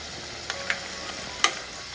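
Urad dal snack frying in oil on a medium flame, a soft continuous sizzle with a few sharp crackling pops breaking through, close and fairly quiet.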